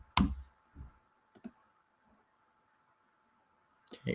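Sparse, sharp computer mouse clicks, a few isolated taps spread across near-silence in a quiet room, with a pair of louder clicks at the start and end.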